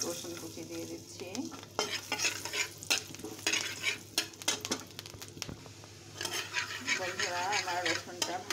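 Chopped garlic and dried red chillies frying in hot oil in a pan, a steady close sizzle with scraping stir strokes and occasional clinks of a utensil against the pot.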